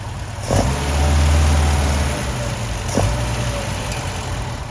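An old Mercedes 190SL engine cranks, catches and revs up with a rough, throaty rumble, then settles into a lumpy idle with a couple of brief blips.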